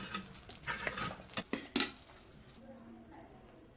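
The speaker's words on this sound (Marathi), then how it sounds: "हे बघा आपल्याला ह्या मिश्रणामध्ये ओतून घ्यायचं आहे चांगलं मिक्स करून घ्यायचं असं" A spoon stirs and mixes a dink laddu mixture in a pan, giving several sharp scraping, squishing strokes in the first two seconds before it quiets to a faint background.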